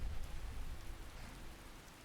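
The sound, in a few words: rain in the video game Skyrim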